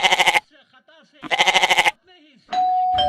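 At a busy Eid ul Azha livestock market, a goat lets out two quavering bleats close by. People talk in between, and a bright electronic tone sounds at the end.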